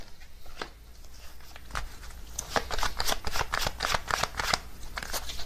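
Tarot cards being shuffled in a reading, with a quiet start that builds into a dense run of crisp riffling and flicking, close and clear, with no voices.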